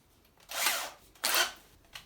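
Power drill fitted with a tile bit boring into ceramic tile at fast speed: two short, hissing grinding bursts close by, with a fainter third start at the end.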